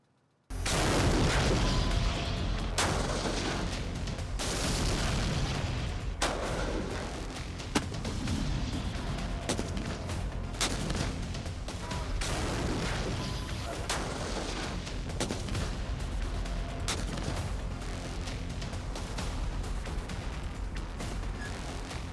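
A Zorawar light tank fires its gun during a military exercise, with dense heavy booms and mechanical clatter continuing without a break at close range.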